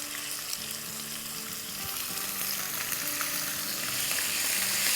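Asafoetida with garlic and ginger paste sautés in hot oil, a steady bright sizzle with faint stirring scrapes, growing slightly louder over the clip.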